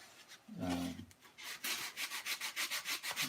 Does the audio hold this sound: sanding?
yes